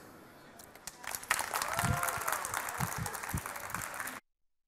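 A live audience applauds to welcome a speaker onto the main stage at a conference in Utrecht, with steady clapping and a few whoops from the crowd swelling, then cutting off sharply.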